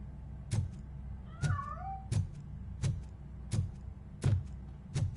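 A cat meows in the RoboCop video game, a couple of short rising and falling cries near the start. Heavy, evenly spaced mechanical footfalls thud underneath throughout.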